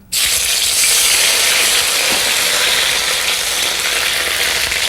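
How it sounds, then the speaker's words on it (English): Ginger sautés in warm ghee, starting with a sudden loud sizzle that settles into a steady, close frying hiss with no talk. "first thing we're going to do is to saute our ginger"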